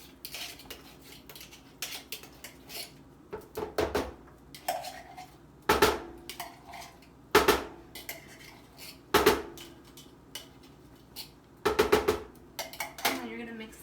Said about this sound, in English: I like to use a fork to kind of like get this puree out of here because it is kind of thick.